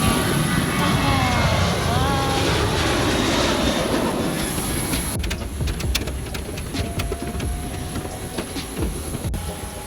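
A Jeju Air airliner sits on the tarmac during boarding, its loud, steady engine roar filling the air close by while people talk over it.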